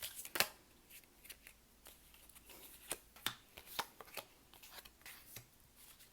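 Tarot cards being shuffled and pulled from a deck, with a run of soft, crisp card flicks and slaps, several sharper snaps spaced irregularly, close and quiet with no talking.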